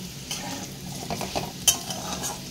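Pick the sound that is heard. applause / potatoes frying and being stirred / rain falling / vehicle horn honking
potatoes frying and being stirred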